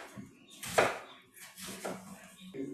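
Knife chopping onion on a board for bulgogi, several uneven close taps with one sharper strike, mixed with kitchen clatter while people talk and laugh nearby.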